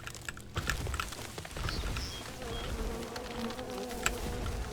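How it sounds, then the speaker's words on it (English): Bees buzz steadily in the Len's Island video game, a continuous droning hum of several insects that holds throughout with faint clicks and game sounds beneath. "Come on, please let there be more bees!"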